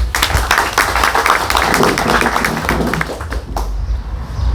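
Audience at a provincial conference applauding their president, dense clapping close and steady for about three and a half seconds before thinning out.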